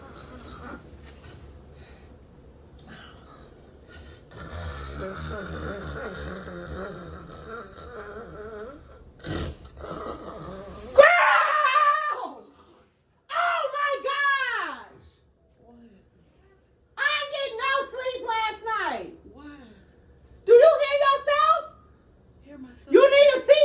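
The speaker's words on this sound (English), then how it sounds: "Girl, you was doing more than snoring. You was howling." A sleeping person snores and lets out drawn-out howling, moaning cries in a series of loud bursts with pauses between them. Murmured talk and rustling come before them.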